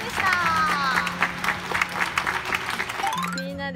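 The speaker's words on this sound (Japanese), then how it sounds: "私拍手されてる" Applause from spectators at a women's Nadeshiko League football match, Nojima Stella versus Cerezo Osaka at a daytime kickoff, a steady spread of clapping under a near voice talking throughout.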